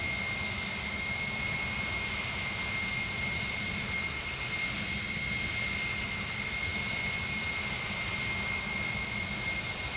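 A steady jet drone from an Airbus Beluga A300-600 in a flight simulator holds unbroken, a broad engine roar with a thin sustained whine above it, alone and unvarying.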